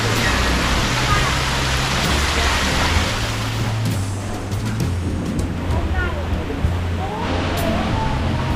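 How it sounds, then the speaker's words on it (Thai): A waterfall at a riverside resort in Kanchanaburi rushes steadily as a broad continuous roar, with people talking nearby over the water. "นี่น้ำตก น่าไปเดินเลยนะ"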